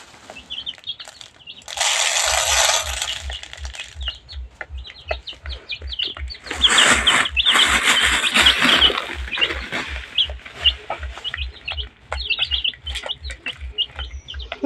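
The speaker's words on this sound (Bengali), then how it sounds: "এই যে আমার মুরগি খাইতেছে" Tiger breed chicks chirp busily while pecking at feed under a 50-watt heat lamp, with rapid high peeps throughout, louder bursts of rustling, and a steady low rhythmic pulsing beneath.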